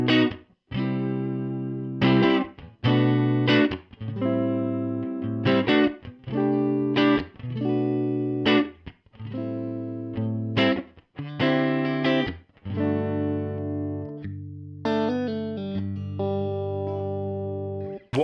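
An electric guitar plays through a UAFX Dumble-style overdrive pedal with the drive switched off, giving a clean tone: a series of strummed chords and ringing notes, up close and steady, with no talking.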